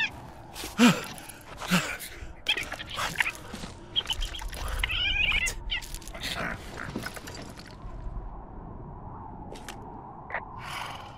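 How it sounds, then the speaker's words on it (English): A raccoon attacks in the video game Firewatch, a burst of snarling, screeching animal noise with rustling scuffles and gasps, loud and close over a steady game ambience. "I'm sniffing around an old lookout and I got attacked by a raccoon"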